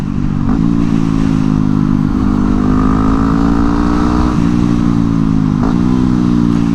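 A motorcycle engine runs loud and close with a steady tone, blipping up in short, sharp revs several times to match downshifts while braking, with no talking.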